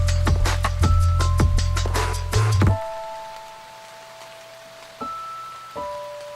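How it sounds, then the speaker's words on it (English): Rain falling in a forest under steady piano notes, loud and dense for the first few seconds before cutting to a much quieter patch where only a few sustained piano tones remain. "this is the outro where it shows it's just piano and rain"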